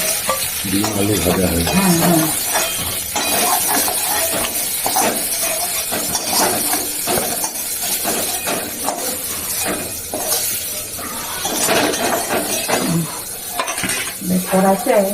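Egg and brinjal curry cooking in a pan: steady oil sizzle with repeated spatula stirring and scraping throughout, loud and close, with a brief voice murmuring near the start.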